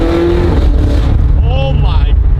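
A rental performance car engine starts and idles, with a loud, steady low rumble and rising revs throughout, heard close up with a voice speaking over it.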